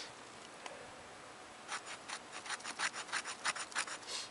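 Spine of a Schrade SCHF27 knife scraped in a rapid series of about a dozen close, rasping strokes after a quiet start, alone with no talking.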